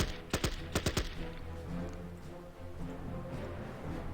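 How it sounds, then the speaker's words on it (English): Gunfire from the wartime strategy game Battle Academy in a Western Desert scenario: two quick pairs of sharp shots up close, then a continuous rumbling battlefield ambience with distant crackle. "Let's take a chance and shoot into that."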